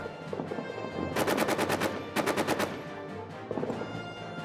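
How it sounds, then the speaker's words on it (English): Artillery and machine gun fire in a World War I trench battle video game, loud rapid bursts of automatic fire in two clustered volleys with booming rumble between, continuous and close. "But wow, this artillery is insane."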